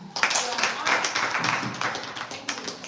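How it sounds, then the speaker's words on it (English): Audience applauding after a talk on teaching ethics: steady, fairly close clapping from a small group lasting a few seconds, dense and even with scattered sharper claps. "So let's applaud ourselves again."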